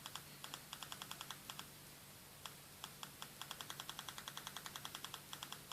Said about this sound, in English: That's to replicate the clicking sound that was present on the TV car.